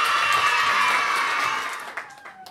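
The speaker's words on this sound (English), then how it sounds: "Let's give a big round of applause to Seaman William Brown." Children and adults in an audience at a storytelling event applaud, with some cheering, loud and sustained before tapering off toward the end.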